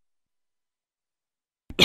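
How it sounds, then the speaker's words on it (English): A single short, sharp cough bursts out after nearly two seconds of silence, close and fairly loud, during a painting session. "Alright, done coughing."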